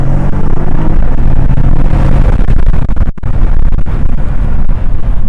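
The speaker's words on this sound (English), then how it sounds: "there's a lot of wind noise there" Loud, constant wind roar buffets through the open windows of a Cadillac CT4-V Blackwing on the move, a dense rushing noise with road rumble underneath and a brief dropout partway through.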